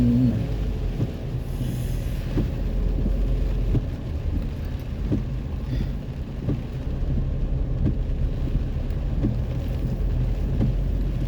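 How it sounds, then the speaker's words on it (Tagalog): Steady, dense rain hisses throughout, with a low rumbling background of strong wind and scattered soft thuds; no voices. In Baguio City, Philippines. "Wow, grabe ang ulan."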